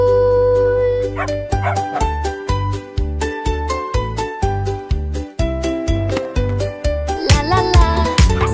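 Cartoon puppies yip and bark in a quick, cheerful rhythm as part of a children's song, the barks falling in time with bouncy music throughout.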